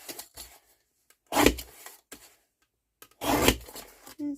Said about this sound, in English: Let's just trim the edges off.